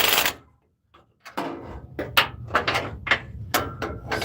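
A wrench turns in a series of short, sharp metallic clicks and scrapes, close up, while a truck O2 sensor is snugged tight, separated by a brief quiet gap early on.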